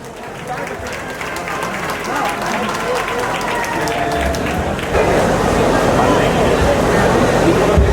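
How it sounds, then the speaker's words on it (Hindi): Loud applause at an awards ceremony in Varanasi as a speaker is welcomed to the stage, the crowd's clapping building and swelling louder toward the end, with voices mixed in. "श्री भागीरथ सर के लिए जोरदार तालियां।"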